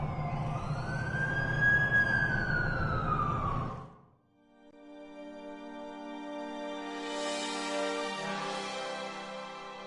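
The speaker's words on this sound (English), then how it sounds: "That's the ambulance I called." Ambulance siren in The Amazing Spider-Man 2 video game, a loud wailing tone sweeping up and down for about four seconds, then giving way to a layered steady harmonic drone.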